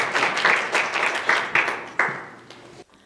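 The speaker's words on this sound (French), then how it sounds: "Certainement d'applaudir" At a press conference, a brief, modest burst of applause rises in pulsing waves and fades out within about three seconds, leaving near silence.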